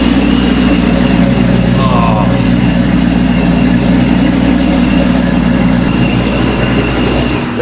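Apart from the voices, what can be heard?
loud truck exhaust running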